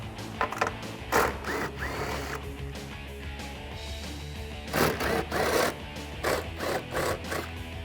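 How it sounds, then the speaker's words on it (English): A small impact driver fitted with an 11mm socket undoes the three taillight nuts on a 2010-2012 Mustang, giving several short rattling bursts of hammering over a steady low hum, fairly close. "I'm just going to use an 11mm socket on a small impact driver to undo each of the 3 nuts"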